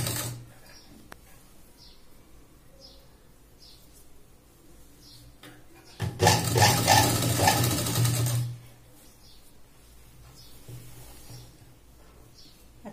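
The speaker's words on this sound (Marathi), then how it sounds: "याला शिलाईच्या आपल्याला अडीकडे स्टिच करायचं।" A sewing machine stitches a dress made from a sari: one loud, rapid whirring burst of about two and a half seconds, with quiet handling before and after.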